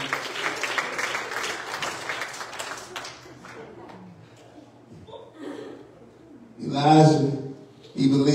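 A church congregation claps hands in a brisk burst for a few seconds, then the clapping dies away and a preacher's loud voice takes over.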